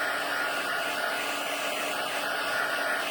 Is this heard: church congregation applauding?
no